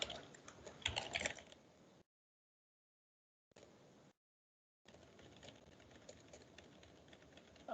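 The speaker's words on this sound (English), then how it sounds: "I'm just typing something" Computer keyboard typing in a lecture setting while building a web page, rapid irregular key clicks in bursts separated by short silent gaps, fairly close and moderately loud.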